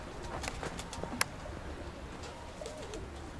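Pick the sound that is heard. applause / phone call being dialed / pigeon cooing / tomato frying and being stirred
pigeon cooing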